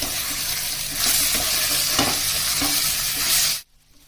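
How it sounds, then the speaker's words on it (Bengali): Chili, cumin and coriander powder for chicken curry stirred in a hot pan: loud, close sizzling with scraping strokes of the spoon, then an abrupt cut to near silence at the end. "এই মশলাগুলো দিয়ে আমি এবার নাড়াচাড়া করব"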